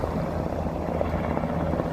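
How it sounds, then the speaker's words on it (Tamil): Helicopter passing overhead, a steady droning rotor and engine rumble that holds at an even, fairly loud level with no voices over it. "ஹெலி அது"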